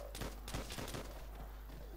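Rapid gunfire from shooting zombies in Call of Duty: World at War, a dense run of loud overlapping shots with a heavy low rumble underneath, continuing through the whole stretch.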